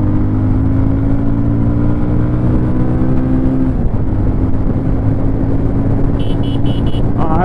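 A 2024 Bajaj Pulsar 220F motorcycle accelerates hard through the gears, its loud engine drone rising in pitch, dipping at a gearshift, then climbing again, with a few brief electronic beeps near the end.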